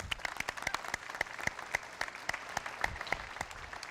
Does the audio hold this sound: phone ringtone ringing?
no